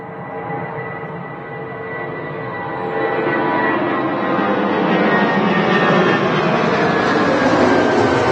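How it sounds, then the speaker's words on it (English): EasyJet airliner inbound from Milan on final approach to Manchester Airport, a broad jet roar that swells steadily louder as it nears, with no talking. "Also got an EasyJet from Milan on finals."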